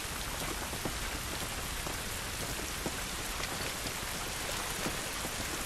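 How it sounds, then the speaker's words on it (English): Steady rain falls in the video game The Last of Us, a dense, constant hiss of drops striking surfaces outdoors, with scattered sharper splats and no voices. "Aw, shit. It's raining."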